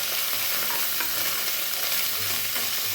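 Ginger garlic paste stirred and sautéed in a pan on low heat, with a continuous close sizzle and scraping stir throughout.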